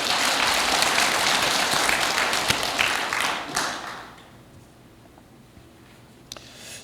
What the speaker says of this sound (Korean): 우리 이분들에게 우리 본당과 모든 분들이 우리 격려와 축복과 사랑의 박수 한번 하겠습니다